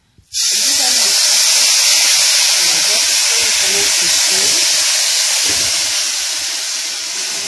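Boiling water poured onto dry vermicelli in a pan, a loud, steady steaming hiss that starts abruptly and holds, slowly fading toward the end.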